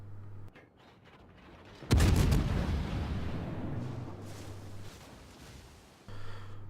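Naval artillery in a warship battle game: a heavy gun salvo booms in at once and leaves a long rumbling roll that fades over several seconds, with a steady low engine hum beneath and a second blast starting near the end.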